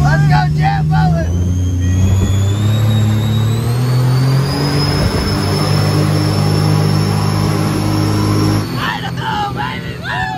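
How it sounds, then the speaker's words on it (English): A jet boat engine revs steadily and loudly on a river for about eight seconds, its droning pitch climbing slowly, with voices talking at the start and end. "Let's go jet boating!"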